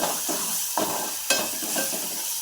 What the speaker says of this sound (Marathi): आलं लसूणची पेस्ट लसूणची पेस्ट आपण परतून घेऊया